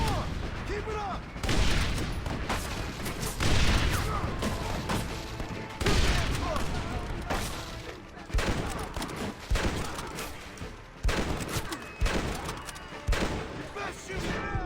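Dense gunfire from the Red Dead video game, repeated volleys and bursts of shots crashing through a loud, busy battle mix with voices shouting over the fighting.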